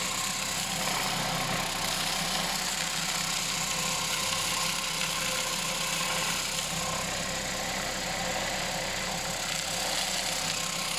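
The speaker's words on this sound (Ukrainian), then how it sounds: "Потім ми підключаємо живлення до двигуна." An electric motor runs on a vibratory tumbling test rig, a steady even hum and rattle of vibration that carries on at a constant level for the full length with no talking.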